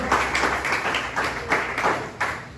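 Congregation applause in a church service, a dense spread of clapping hands with rhythmic surges, moderately loud and close, with no voices over it.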